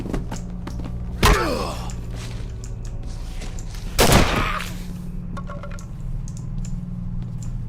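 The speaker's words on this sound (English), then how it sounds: "she can clearly hear the gunshots" Two loud gunshots ring out in a TV show, each a sharp blast with a decaying echo, about three seconds apart over a low, steady background hum.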